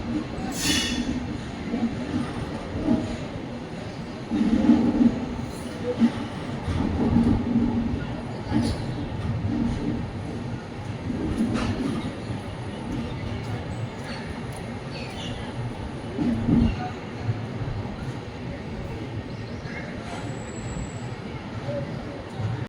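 The Hampi Express rolls into Hubballi Junction station with a steady rumble and rattling carriages, faint wheel squeal and occasional clacks, while people talk on the platform.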